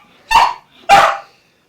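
A pet dog, a female, gives two sharp, loud barks close by, about half a second apart, with no talking.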